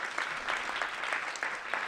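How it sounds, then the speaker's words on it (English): An audience at the Brooklyn Arts Council 2019 regrant ceremony gives Lori Cumbo a round of applause, steady dense clapping throughout with a few louder swells. "Let's give Lori a round of applause."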